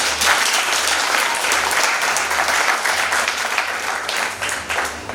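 A crowd at an 83rd birthday celebration applauds loudly and continuously, dense clapping that stays steady throughout with no pauses.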